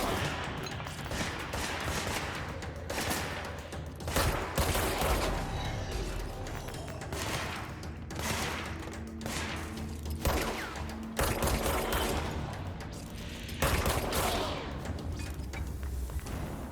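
Rapid gunfire from the Service Weapon in the video game Control, repeated bursts and volleys with thumping impacts and mechanical clatter, dense and loud throughout with brief gaps between strings of shots.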